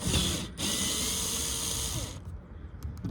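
A T25 Torx bit loosens screws on the trunk pull-down motor of a 1993 Cadillac Fleetwood Brougham. A close, loud, continuous mechanical whir with a brief break runs for about two seconds, then a few faint clicks follow.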